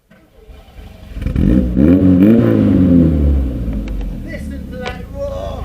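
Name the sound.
car engine roar through Long Life exhaust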